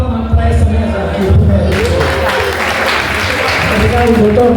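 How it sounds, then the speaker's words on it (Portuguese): Audience applause at a book launch for "Democracia Atípica" in London, a steady wash of clapping from a crowd in a hall, with voices talking over it. "Uma salva de palmas para essa mesa aqui."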